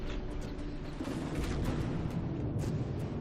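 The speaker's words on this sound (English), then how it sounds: "Wow, some big explosions there." Explosions in the video game From the Depths come as a rapid string of sharp cracks and booms layered over a dense, rumbling low roar, with several bursts close together.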